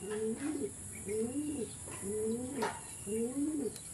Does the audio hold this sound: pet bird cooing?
yes